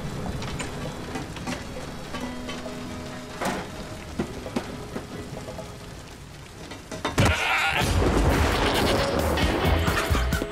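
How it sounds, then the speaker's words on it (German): Goats bleating in the Minecraft 1.17 update trailer, video game sounds with repeated bleats over busy game audio, then a louder, dense wash of noise for the last few seconds. "es sind Ziegen drin, damit kann man Leute wegcrashen"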